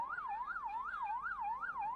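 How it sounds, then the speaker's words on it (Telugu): A wailing emergency siren, the kind used by police vehicles and ambulances, rises and falls in a steady smooth cycle about every 0.4 seconds, loud and clear with no talk over it. "పోలీస్ వాహనాల సైరన్లు, అంబులెన్స్ సైరన్లు"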